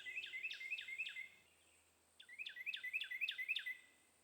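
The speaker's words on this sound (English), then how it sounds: "I heard this familiar bird song, which I followed to this Carolina wren just singing his little heart out." A Carolina wren sings two loud, clear bursts of rapid repeated phrases, about four or five notes each, with a short pause between them against a quiet background.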